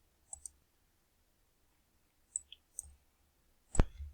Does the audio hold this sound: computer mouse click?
yes